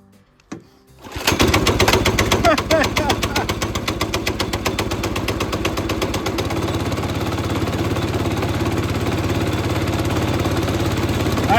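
A small sawmill engine, unused for a month and set with choke on and throttle high, catches on a single pull and settles into a loud, steady, rapid chugging run close by.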